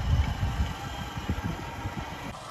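A low, rumbling tractor engine idles close by with an uneven throbbing pulse, running steadily throughout.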